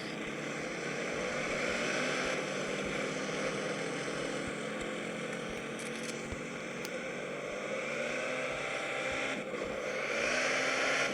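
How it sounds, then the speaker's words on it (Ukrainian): A tractor engine in the video game MadOut drones continuously, a loud, steady motor hum with slight rises in pitch throughout and no voices over it. "Трактор!"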